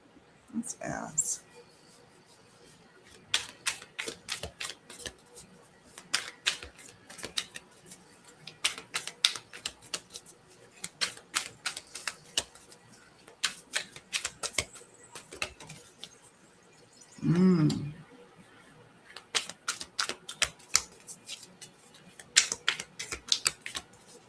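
A tarot card deck is shuffled in repeated bursts of quick, crisp riffling clicks, close and fairly quiet, with a brief soft voice partway through.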